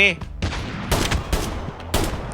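Gunfire from the mobile game Call of Duty Mobile, fired with a J358 pistol: several sharp, loud shots in quick succession, the first just after a brief spoken word from a player.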